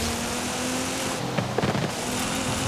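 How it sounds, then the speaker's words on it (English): Steady rain falls in the racing video game Forza Horizon 5, a continuous hiss of downpour heard alone at even loudness, with a few faint soft knocks partway through. "We do have some rain here"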